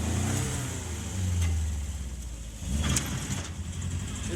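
A Triumph Spitfire barn find, running for the first time in 43 years with carburettors needing tuning, revs hard at full throttle, a loud, steady engine roar that swells and dips slightly as it pulls.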